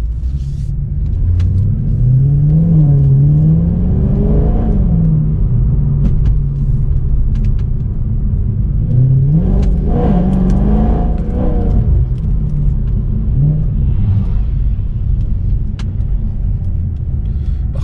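Mercedes C63 Black Series engine rumbling and revving, with deep low drone and several rising-and-falling rev sweeps, loud and continuous throughout.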